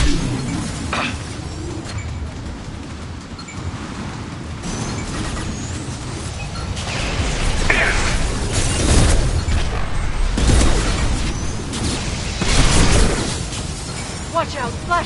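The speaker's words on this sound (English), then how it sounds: "Watch out, flashbangs!" Flashbang grenades go off in Mass Effect 2 combat, sharp bursts and crackling blasts over a busy battle mix, with a few louder hits near the end and voices speaking in between.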